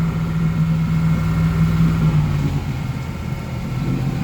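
A Century boat engine idles at low throttle, a steady, even low drone that holds without change for the whole stretch, with no talk over it.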